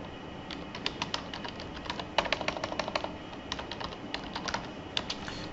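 Someone types a name on a computer keyboard while working in Microsoft Access, a quiet, close run of irregular key clicks in short bursts with brief pauses and no talking.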